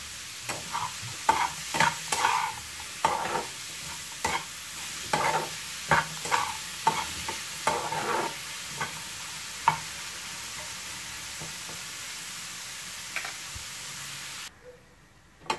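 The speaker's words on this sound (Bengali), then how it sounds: "পেঁয়াজটা কিন্তু এরকম করেই ভাজতে হবে" Onions salted and frying in a pan, stirred again and again. Irregular scraping strokes sit over a soft, continuous sizzle, and the stirring thins out toward the end before the sound stops.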